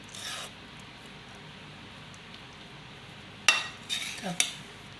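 Solapuri peanut chutney is scraped out into a kadhai, with a short scrape at the start and then a cluster of sharper scraping and clinking strokes near the end, all fairly quiet and close.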